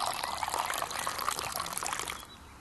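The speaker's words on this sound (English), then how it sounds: "poured another glass of red wine" Red wine pouring into a glass outdoors at sunset, a steady close trickle of liquid running for about two seconds before tapering off, with no talking.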